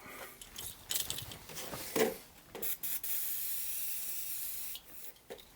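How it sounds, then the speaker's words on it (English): Short hissing bursts from a WD-40 spray can, then one long continuous spray lasting a couple of seconds, with faint handling clicks between, while restoring a Sinclair ZX Spectrum+. "We need some WD-40 for this. I think just going to spray it with some."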